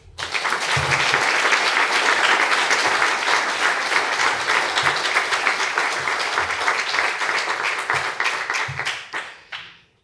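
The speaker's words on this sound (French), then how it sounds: "je vous demande quelques applaudissements" Sustained applause from an audience at a French project presentation, loud and dense clapping that holds steady for about nine seconds before fading out at the end.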